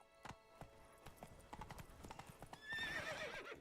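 Geralt's horse Roach gallops in Witcher 3's Blood and Wine expansion, steady hoofbeats clip-clopping faintly before a whinny-like squeal rises near the end.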